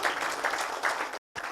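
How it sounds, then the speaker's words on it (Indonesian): A seminar audience claps in a brief, dense burst, steady and fairly close, broken by a short moment of silence before it picks up again. "Untuk itu tepuk tangan buat Anda"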